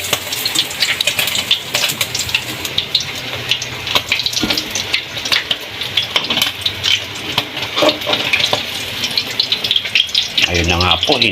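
Hot oil bubbles and sizzles around a batch of fried food, a continuous crackling hiss with dense popping that runs throughout at close range, with a voice briefly heard near the end.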